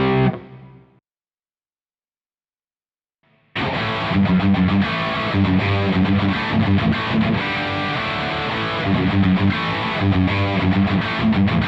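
After a short cut-off phrase and about two seconds of silence, an electric guitar through a Soldano SLO 100 amp with the gain at 8 plays dense, heavily distorted chugging riffs, loud and close with no talk.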